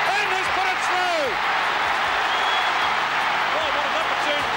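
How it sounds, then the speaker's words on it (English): A huge stadium crowd roars and cheers at the 1981 VFL night grand final for Essendon, a dense, sustained wall of noise with a commentator talking over it. "Listen to that crowd."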